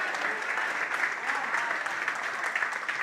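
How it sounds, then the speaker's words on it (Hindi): Audience applause as a tribute at a Pakistani community gathering in Barcelona, a dense, steady clapping from a crowd that holds at an even level from start to finish with no voices over it. "भरपूर तालियां बजाएं जरा"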